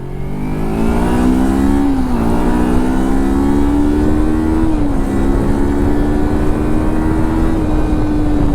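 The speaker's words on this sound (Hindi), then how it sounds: "ये देखो फर्स्ट गियर में कितना हाई रेव्स पे होगा ये देखो फर्स्ट गियर" A Kawasaki Versys X 300 motorcycle revs high in first gear, a loud, steady engine drone that climbs in pitch with brief dips at gear or throttle changes. No voices are heard.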